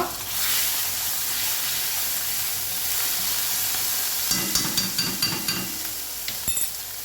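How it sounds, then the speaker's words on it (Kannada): Tempering in hot oil in a pan gives a loud continuous sizzle, and partway through a run of sharp crackling pops and splutters breaks out over it. There is no talk. "ಈಗ ನೋಡಿ ಸಿಡಿಲಿಕ್ಕೆ ಸ್ಟಾರ್ಟ್ ಆಯಿತು"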